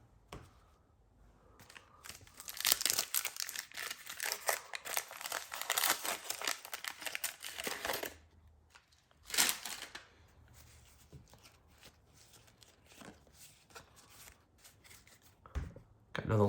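Sealed 1989 Topps football wax packs being torn open, with loud bursts of crinkling and ripping wrapper close by, then quieter handling and card shuffling. A voice is heard intermittently.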